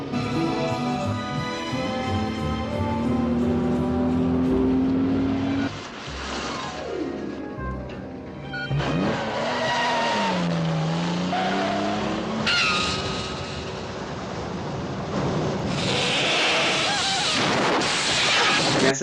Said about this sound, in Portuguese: Tem a cena do Aston Martin DB5 e do Mustang